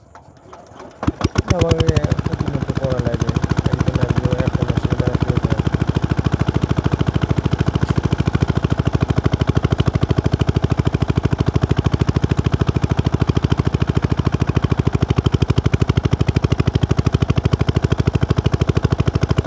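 A small engine on an irrigation water pump for a rice paddy cranks, catches after a couple of seconds, then runs at a loud, steady, rapid chug close by for the rest of the clip.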